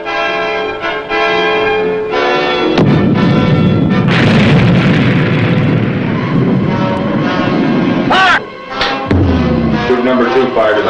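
A WWII submarine fires torpedoes at two frigates: a long, loud rumbling roar of blasts over ringing tones, broken by a brief lull and then a sharp burst, with voices mixed in.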